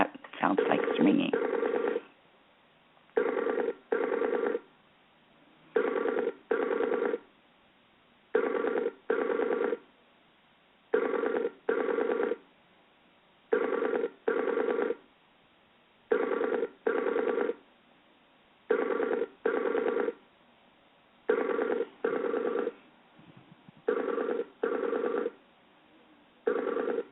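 A telephone ring tone repeats in steady double bursts with short pauses, heard through a phone line, going on for about half a minute.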